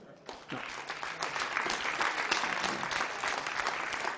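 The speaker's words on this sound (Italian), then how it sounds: "vi hanno detto che gli applausi non mi offendono, vero?" A theater audience at an Italian comedy show breaks into sustained, dense applause that swells quickly and holds steady, filling the room.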